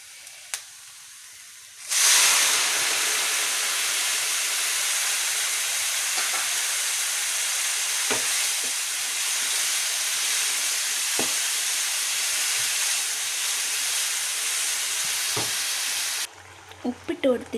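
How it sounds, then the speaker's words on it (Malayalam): Water is poured into hot spice masala in a pan for an egg roast, setting off a loud, steady hissing sizzle that starts abruptly and keeps going for about fourteen seconds, with a few light stirring clicks. "വെള്ളം ഒഴിച്ചു കൊടുക്കാം കേട്ടോ."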